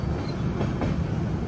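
A train rolling into Pune Junction railway station, a steady loud rumble of wheels and carriages with faint clatter throughout, no voices.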